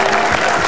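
Audience applause on an Indonesian TV game show, a short dense burst of clapping from a studio crowd, loud and close.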